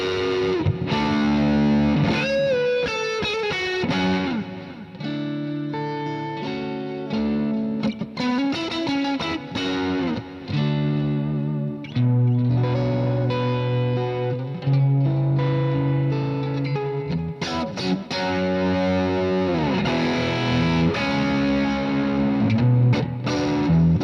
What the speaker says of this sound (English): There's my delay.